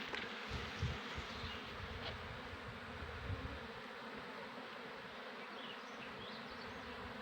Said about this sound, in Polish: A tutaj pszczoły na rzepak pracują.